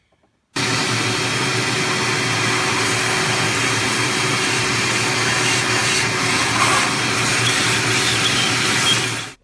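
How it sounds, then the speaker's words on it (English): A shop vac switches on and runs with a loud, steady whining roar for about nine seconds while cleaning the surface of a Ford 5.4L 3-valve engine, then cuts off; no talking over it. "get a small shop vac nozzle and you run it across here"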